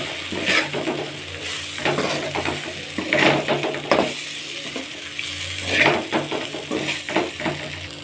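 Okra stir-frying in a hot pan hisses steadily while a utensil turns it, with repeated scraping and clinking strokes over the sizzle. No one talks.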